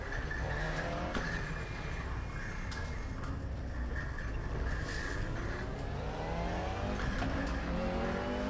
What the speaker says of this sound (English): Locking up the brakes.